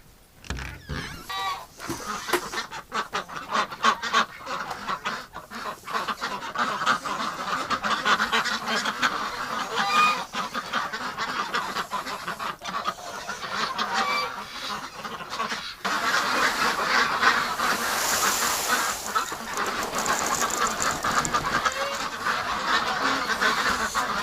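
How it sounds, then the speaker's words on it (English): Winter ducks quack and honk in a pen on a windy day, a busy run of calls close by over wind noise, getting louder in the second half. "Relax, ducks."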